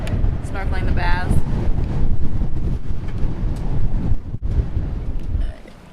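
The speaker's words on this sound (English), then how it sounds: "it has been windy and there's just been some big gusts" Strong gusty wind buffets a sailboat anchored off Virgin Gorda in the British Virgin Islands, a loud rumbling roar battering the microphone near and constant, with brief dips between gusts.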